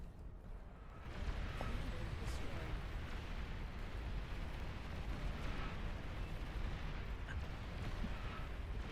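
A Juggernaut unit self-destructs in the strategy game Beyond All Reason, giving a sustained, rumbling explosion roar that swells after a moment and rolls on steadily for several seconds, with no voices over it.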